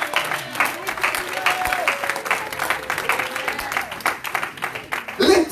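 A congregation at a prophetic conference applauds steadily, a dense patter of clapping with a sustained voice or tone running beneath it.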